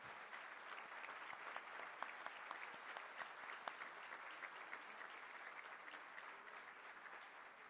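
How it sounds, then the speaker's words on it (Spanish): An audience at a constitutional gathering in Tolima applauds the Bunde Tolimense centenary, a sustained wash of dense clapping from a large crowd, even and continuous throughout, heard at a distance and fairly quiet. "Aplaudamos los 100 años de fundación del Bunde Tolimense."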